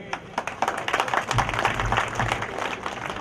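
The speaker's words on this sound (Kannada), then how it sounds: "ಎದಕ್ಕೆ ನೀವು ಚಪ್ಪಾಳೆ ಹಾಕಿದ್ರಿ?" A crowd gathered at a school alumni celebration in Sidiginamole applauds steadily and continuously, with dense overlapping claps filling the space throughout.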